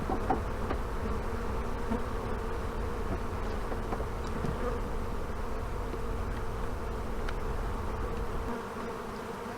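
A swarm of honey bees settled in an old hive hums in a dense, steady drone throughout, close and fairly loud, with faint knocks and handling sounds and no talk.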